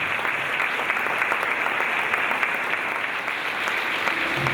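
Audience applauding steadily at a local civic awards ceremony in Torrent, a dense continuous wash of clapping that holds at an even level throughout.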